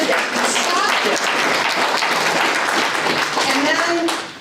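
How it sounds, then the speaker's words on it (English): Audience applause in a legislative or political gathering after mention of a failed Senate bill: dense, steady clapping from a crowd, loud and continuous for about four seconds before tapering, with some voices mixed in. "Yes, you could clap for that."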